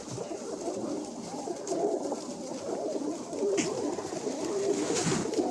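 Yeysk double-crested pigeons cooing in a loft, with soft overlapping coos repeating throughout amid steady background noise, a few birds audible at once at moderate distance.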